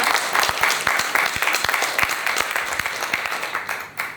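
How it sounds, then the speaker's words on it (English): An audience at a women's health fireside chat event applauds for a guest speaker, a dense and steady round of clapping that fades at the end. "So maybe we can give a round of applause for Dr. Lam."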